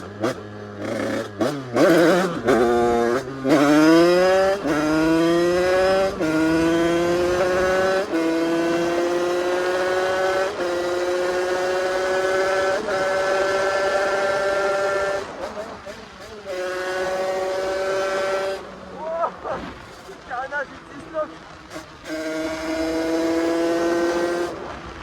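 A tuned Sherco 50cc two-stroke motorcycle engine screams upward through repeated rising revs, each pull climbing steeply in pitch before dropping back, loud and close with short choppy gaps between.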